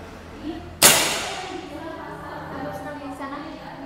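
A single sharp crack as a powerful air-rifle spear gun fires a fishing dart into a tree target, standing out clearly above low ambient noise and faint voices.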